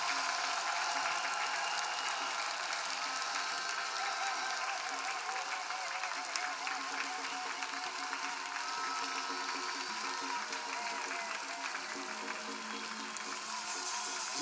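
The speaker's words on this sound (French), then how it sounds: "clap for Jesus" Dense, sustained applause from a large church congregation clapping for Jesus during a prayer gathering, loud and continuous throughout with a few voices mixed in.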